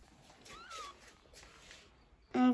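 Three-day-old newborn kittens whose eyes have not yet opened give a few faint, thin, high meows, close but quiet, before a sudden louder burst of noise at the very end.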